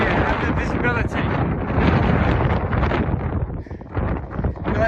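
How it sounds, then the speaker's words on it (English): Strong gusting wind roars across an exposed mountain summit in poor visibility, a loud, continuous buffeting rush close to the microphone that swells and dips throughout. "The amount of wind here and the visibility."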